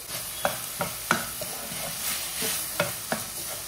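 Tomato fries in a pan for chicken gravy, sizzling steadily up close while a spoon scrapes and stirs in quick, irregular strokes.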